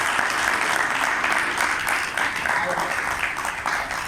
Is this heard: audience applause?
yes